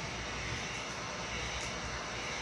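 Heat gun blowing on vinyl wrap being laid onto a Chevrolet Silverado truck, a steady, loud, close airy roar of fan and rushing air that holds unchanged throughout.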